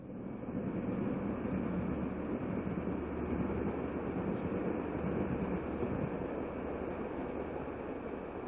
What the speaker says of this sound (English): the New York Special is seen crossing the Huron River